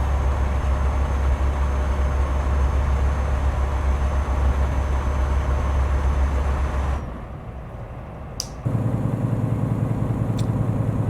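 Truck engine in Euro Truck Simulator 2, a Scania with open pipe exhaust, drones loudly and steadily, then abruptly drops off briefly before a lighter rumble resumes; no talking is heard.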